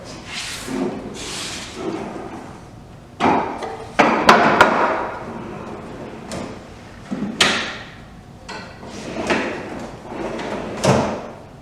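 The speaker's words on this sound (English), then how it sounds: "I'm just going to show you, if I did it right, just how easy these undermount drawer slides are." A drawer on undermount slides in a 72-inch double bathroom vanity build is opened and closed several times, giving a run of smooth sliding rushes ending in soft wooden thuds, close by with no talking.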